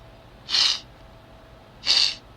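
Two short, breathy sneezes about a second and a half apart, sharp bursts of air over a quiet background.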